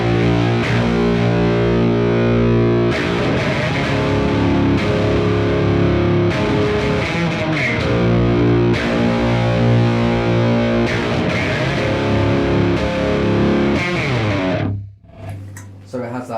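A 5-string bass runs through a fuzz pedal emulating a Sunn Model T amp into a Behringer rig, giving a thick, continuous distorted drone with shifting notes that stays loud throughout before a short break near the end.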